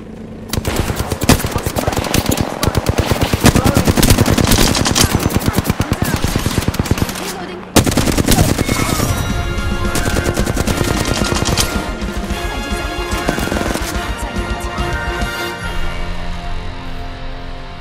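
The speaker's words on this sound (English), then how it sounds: "Hey, I'm getting shot! Taking fire!" Rapid automatic gunfire in an Apex Legends match, long loud bursts of shots rattling almost nonstop, with a brief pause before another barrage and trailing single shots.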